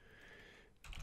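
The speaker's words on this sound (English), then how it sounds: "you're going to type in this box right here" Close-up typing on a computer keyboard, quick soft key clicks with no voice, then a louder clatter of keys near the end.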